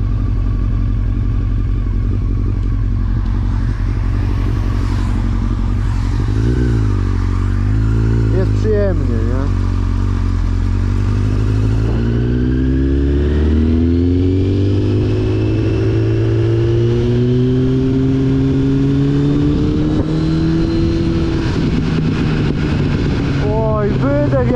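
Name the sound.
Honda Fireblade 900 cc motorcycle engine warming up and revving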